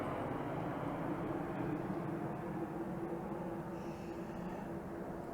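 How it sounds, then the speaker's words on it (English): A propeller airplane passes overhead with a steady low droning hum that holds loud and even throughout, heard outdoors with no voices. "we have a plane going over"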